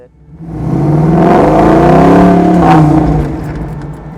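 A 1954 Chevrolet Corvette restomod fitted with a C5 LS1 V8 revs up hard, the engine note swelling, holding loud and close for a couple of seconds, then easing back down.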